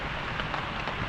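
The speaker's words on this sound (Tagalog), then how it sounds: "Oh, it's raining." Rain falling outside at a campsite in Marilaque, Tanay, Rizal, a dense steady hiss of drops pattering on surfaces, close and continuous with no voices.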